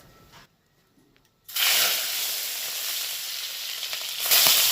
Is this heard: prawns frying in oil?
yes